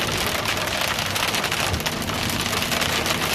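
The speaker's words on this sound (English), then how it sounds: "You probably hear the loud raindrops." Hail and heavy rain hammer a car driving through a hailstorm, a dense, loud, continuous drumming on the roof and windows close around the cabin, with no talk.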